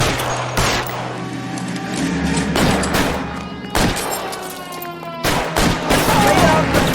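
Sustained gunfire in the L.A. Noire video game, with loud repeated volleys and sharp bursts of shots that continue throughout, over a steady background din.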